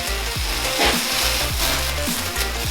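A plastic bag is dragged across a sheet of paper in spray paint art, spreading paint into a mountain shape, giving a steady close scraping, hissing rustle with a few short strokes.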